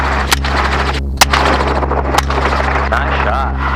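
Gunshots from a helicopter during a hog hunt ring out as a few sharp, loud cracks spaced about a second apart, over a constant heavy rotor and engine drone.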